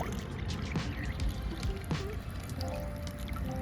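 A steady stream of water from a solar fountain pump splashes and trickles continuously, with a faint hum and light bubbling in the background.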